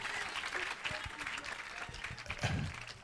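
A church congregation at a Sunday service applauds to acclaim the Holy Spirit, a dense, sustained clapping from a crowd filling the room, with voices mixed in.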